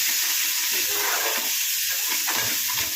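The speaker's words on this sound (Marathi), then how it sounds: "हे जे वाटण आहे ते आता तेलामध्ये चांगलं फ्राय करणार आहे" Ground masala paste (vatan) sizzles and spits in hot oil in a pan while cooking a gavar (cluster bean) curry, a steady loud bright hiss throughout with stirring scrapes mixed in.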